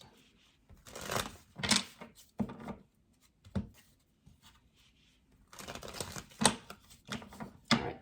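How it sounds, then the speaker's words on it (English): A deck of tarot cards is shuffled in several brisk bursts of papery riffling and slapping, separated by short quiet gaps, close to the microphone. "Let's shuffle your clarifying cards in case I need them really quickly."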